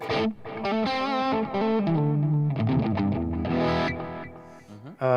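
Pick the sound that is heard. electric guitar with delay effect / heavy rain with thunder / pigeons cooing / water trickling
electric guitar with delay effect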